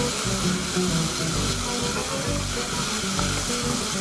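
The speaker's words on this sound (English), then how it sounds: "So then we're going to give this a stir." Beef stroganoff with beef cubes sizzles steadily in a pan while being stirred, a dense continuous frying hiss with soft scraping movement throughout, close and fairly loud with no talking.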